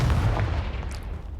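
A fiery Confringo blasting spell explodes at trolls in the video game Hogwarts Legacy: a heavy, rumbling boom that rolls on as a sustained low roar, loud and close, with no talking.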